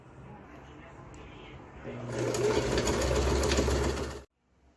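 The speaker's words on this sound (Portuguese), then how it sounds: "vamos lá na máquina passar uma costurinha aqui e do outro lado também, pra fechar aqui essa caixinha de leite" A sewing machine stitching a seam on a pouch made from a milk carton, a quick rapid mechanical whir that builds after a quieter start and cuts off abruptly.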